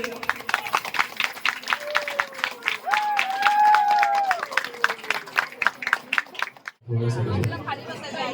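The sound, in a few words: audience applauding at a village prize distribution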